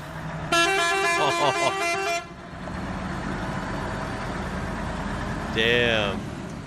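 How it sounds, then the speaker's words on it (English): A bright red IVECO truck sounds its horn in one loud, sustained multi-tone blast of nearly two seconds, followed by steady road noise and a brief high tonal sound near the end, with people talking in the background. "Hilarious horn."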